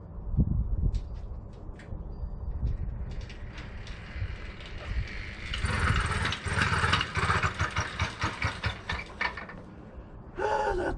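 A newly fitted bicycle motor kit with a choke lever, high geared for a muddy trail, sputters through a ratcheting start attempt, then catches and runs as a rough, uneven buzzing of repeated bursts, close and fairly loud, with no talking.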